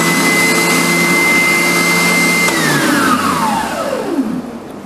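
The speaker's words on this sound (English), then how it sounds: "my built-in dust collection and my spindle sander both come on" A spindle sander and its built-in dust collection run together on a belt sander table, a loud, steady motorized whine and whoosh that holds, then winds down with falling pitch as the machines switch off.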